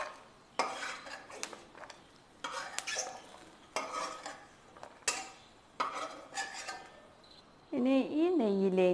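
Fried coconut pieces scooped out of hot ghee in a pan with a metal spoon, a series of close scraping clinks and stirs in bursts, giving way to a loud steady sizzle at the end.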